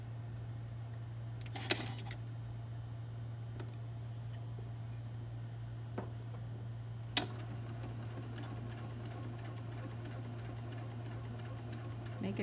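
A sewing machine stitching a quilt block gives off a low, steady motor hum with a few soft clicks and taps, heard under a person talking quietly.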